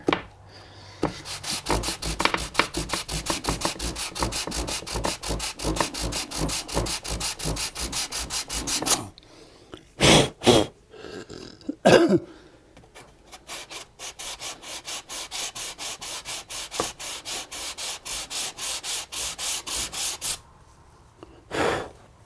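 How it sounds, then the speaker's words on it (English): Hand sanding a guitar body with 320 grit sandpaper makes rapid, rhythmic back-and-forth scrubbing strokes, close and fairly loud, with a short pause in the middle and a few isolated strokes before the steady rubbing resumes. "I'm using a 320 grit here."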